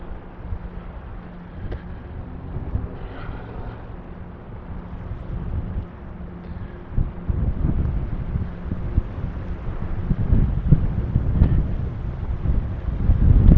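Wind gusting beside a tall building on a city street, a steady low rumble buffeting the microphone that grows stronger and rougher toward the end, with no voices.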